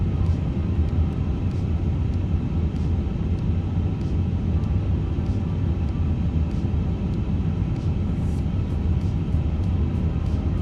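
Airbus A350 airliner taxiing in Microsoft Flight Simulator 2024, a steady loud jet engine rumble and whine with faint periodic ticks, continuous and unchanging throughout.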